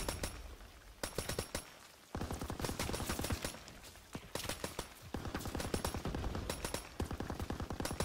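Covering gunfire from World War II rifles and machine guns in Call of Duty: WWII, loud rapid bursts of shots in repeated volleys, close and sharp, with short pauses between them and no talking.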